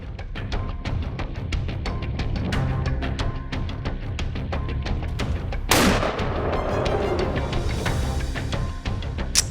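Rapid volley of close, sharp gunshots in quick succession from hunting rifles, punctuated by one louder, heavier blast midway with a lingering rumbling decay, then more steady firing.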